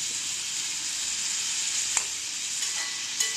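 Ripe red tomatoes cooking in a pan for sweet chutney, a constant bright hiss with two brief sharp clicks of a utensil as the mixture is stirred.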